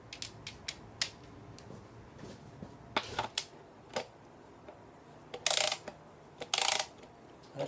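A torque wrench on a 10mm bolt during an NP249 transfer case rebuild gives a series of sharp metallic clicks and ratcheting bursts, close and distinct against a quiet workshop background, with louder clusters near the end.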